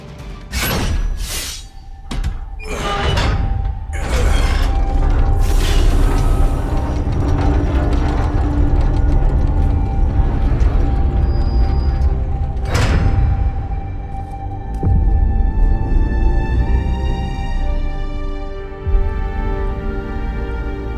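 An old Enigma lock mechanism in Marvel's Midnight Suns clanks and grinds open, with several loud metallic slams at the start, a long sustained mechanical hum and rumble, another heavy clunk midway and a slow fade.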